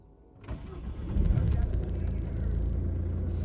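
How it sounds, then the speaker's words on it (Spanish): A car engine starts up during a demonstration of a StarLine S9 car alarm, a short crank followed by a steady low idle rumble that continues close and even to the end. "Arrancamos el coche."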